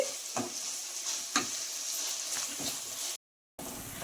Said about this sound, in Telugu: బాగా ఫ్రై చేసుకోవాలండి మెంతాకుని